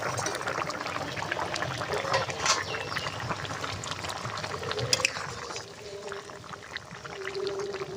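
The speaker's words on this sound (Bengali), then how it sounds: "ঝোলটা ফুটে গেছে ভেজে রাখা মাছ আর মাছের ডিমটা আমি ঢেলে দেবো" Fried fish and fish roe are poured into boiling fish broth made with mixed vegetables, giving a continuous, fairly quiet watery splashing and bubbling with scattered clinks throughout.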